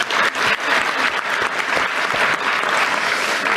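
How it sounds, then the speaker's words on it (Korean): An audience at a Korean public event gives loud, dense applause that runs steadily for a few seconds with no talk over it. "박수 한번 주세요"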